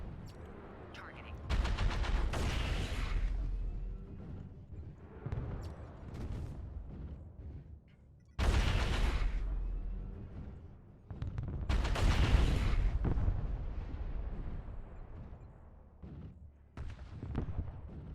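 Missile launches and weapons fire in a video game: several loud, booming bursts of blasts and rapid shots, separated by quieter stretches of rumbling background.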